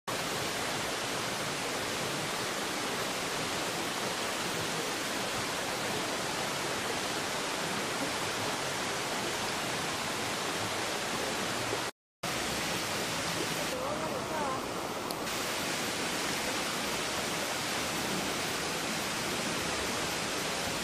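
Bridal Veil Falls in New Zealand pours in a constant, loud, hissing roar of falling water that fills the whole scene, broken only by a momentary dropout.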